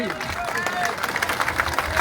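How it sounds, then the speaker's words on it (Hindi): Crowd applause at a water tank inauguration ceremony in Gangapur, a dense steady patter of clapping hands mixed with murmuring voices for about two seconds. "अरे जोर से तो बजाओ ताली।"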